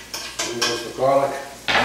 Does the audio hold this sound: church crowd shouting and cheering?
no